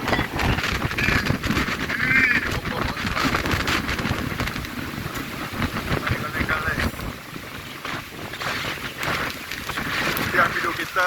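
Strong wind and heavy rain at sea, heard from a boat out hunting clams and fish, roar steadily and loudly throughout with constant gusting noise and pattering.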